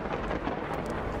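A thunderstorm in the video game The Universim brings a brief, loud rumble of thunder layered over rain, dense and continuous with no speech.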